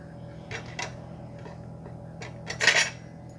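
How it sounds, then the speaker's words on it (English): Large eggs are cracked against a hard kitchen surface for French toast, giving two or three short, sharp knocks and clicks spread over a few seconds in a quiet room. "Cracked egg number 1."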